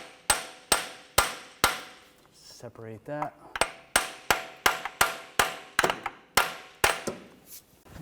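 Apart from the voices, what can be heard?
hammer tapping metal bracket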